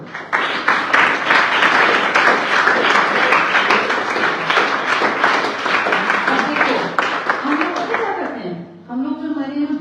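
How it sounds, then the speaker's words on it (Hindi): An audience claps steadily and densely for about eight seconds at a selection celebration for a PRT teacher in Rajasthan. The applause fades, and a voice starts speaking at the end. "इनके लिए तालियां बजाओ"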